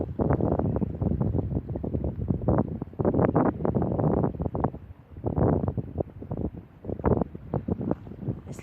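Strong wind buffets the microphone on a beach, a loud continuous roar broken by gusty surges and brief lulls, with no other sound clearly standing out.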